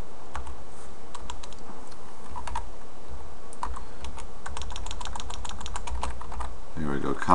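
Steady run of keyboard typing as code is written in Visual C# 2010, the key clicks close and fairly quiet with a faint hum underneath and no talking.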